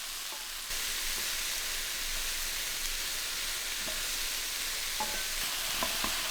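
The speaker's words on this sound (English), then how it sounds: "Stir together and cook for 5 minutes, stirring often until the onions soften slightly." Onions, bell peppers, minced garlic and a sliced jalapeno sizzling in a pan while being stirred, a steady bright hiss with occasional soft scrapes and clicks, close and even throughout.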